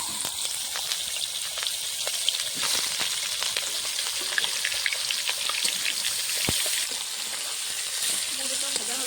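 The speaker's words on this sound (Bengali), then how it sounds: "মুড়োটা ভেজে নেবো তাহলে" A rohu fish head, rubbed with salt and turmeric, frying in hot oil in a pan, giving a steady loud sizzle with scattered crackles and pops throughout.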